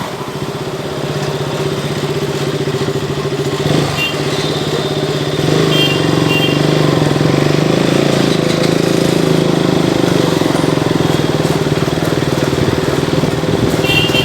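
A motorcycle engine runs steadily and loudly close by while riding through city streets, a constant droning hum that swells slightly partway through.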